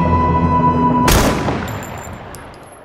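A shootout in an action film: a single sharp gunshot bursts out after a steady tonal background hum, then trails off into a long decaying echo with faint high ringing.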